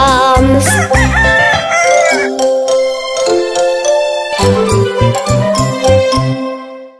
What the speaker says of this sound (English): Hear the cockle-doo of the rooster loud everywhere, like the ringing of alarms.